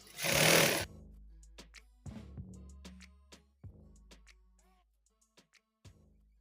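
A sewing machine stitches a smoky flare dress with pleats. A short, loud mechanical whirr of stitching is followed by scattered thumps and clicks of fabric handling close by.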